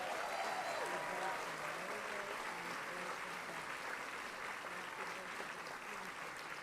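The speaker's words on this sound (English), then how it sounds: "Let's have a great round of applause for Chris Quinn." Guests at a fall political dinner give steady applause, an even wash of clapping heard from the room for several seconds, with faint voices mixed in.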